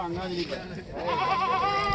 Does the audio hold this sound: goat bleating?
yes